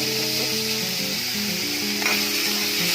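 Quartered tomatoes fry in a pan over medium heat with a loud, steady sizzle and hiss throughout, while a melodic tone runs underneath.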